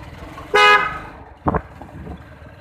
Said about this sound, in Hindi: हमारी बाइक का हॉर्न क्रेटा के हॉर्न से भी तेज है, जो कि हमारे पीछे आ रही है अभी